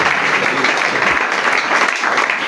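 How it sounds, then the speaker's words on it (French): A worship-service congregation applauds in a steady, dense wash of clapping that holds loud and even from start to finish, with no speech standing out. "Est-ce que nous pouvons acclamer?"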